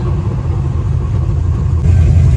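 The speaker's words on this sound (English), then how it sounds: "It sounds like there's an axle just being torn apart, but it's the diff." A lowered, LS-swapped 1974 Datsun 260Z with a welded R200 differential, its diff grinding and rumbling steadily under engine drone while driving, loud and close with a slight rise in level toward the end.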